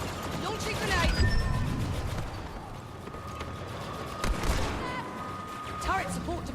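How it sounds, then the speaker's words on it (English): Grenade launch and gunfire in the video game Star Wars Battlefront 2, with rattling bursts of shots and mechanical clanks over a dense battle backdrop, while voices speak through the clip. "Launching grenade."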